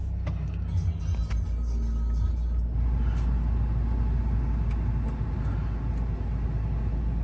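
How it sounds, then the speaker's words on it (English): A 2015 Peugeot 3008 Allure 2.0 HDi diesel automatic starts up, its engine settling into a low steady idle rumble that carries on throughout. "I will just start the car now so you can see there's no warnings"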